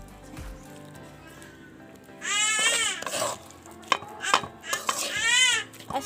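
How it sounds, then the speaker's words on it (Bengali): Spiced paste worked into food by hand in a village kitchen ahead of marinating, with wet squelching and soft clinks of a bowl, then busier sloppy mixing sounds and scrapes in the second half, close by. "মশলাটাকে এভাবে মাখিয়ে নেব"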